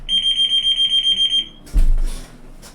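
A fire alarm on test gives a rapid run of about a dozen shrill, evenly spaced beeps, loud and close, then cuts off abruptly and gives way to a dull thump and low rustling.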